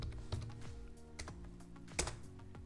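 Computer keyboard typing a PowerShell command: a short run of quick, close, soft key clicks in an irregular rhythm in a quiet room.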